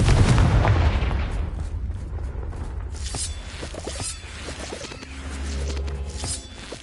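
A Confringo fire spell blasts in the Hogwarts Legacy video game, opening with a loud, rumbling burst that decays into crackling debris and scattered impacts, followed by a lower swell of game ambience.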